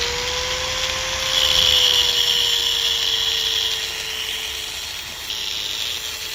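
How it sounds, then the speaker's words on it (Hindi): An angle grinder cuts through a steel rod in a steady, loud, continuous whine that swells slightly partway through and then settles, heard alone and close. "चलो ग्राइंडर की लड़ाई शुरू हो गई है"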